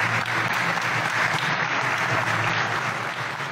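Crowd in Europe applauding Laureano Ortega: dense, continuous clapping from many hands, loud and sustained throughout with no voices on top.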